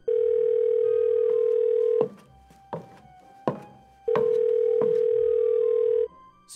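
A steady telephone tone sounds during an attempted call, two long even tones separated by a short gap with a few soft thumps and clicks between them.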